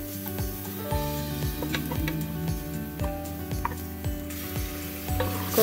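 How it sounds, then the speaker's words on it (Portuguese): Garlic and onion fry in olive oil in a pan, giving a steady close sizzle with light ticks and clicks throughout. No one speaks. "Um cheiro maravilhoso só do alho e da cebola com azeite aqui já fritando."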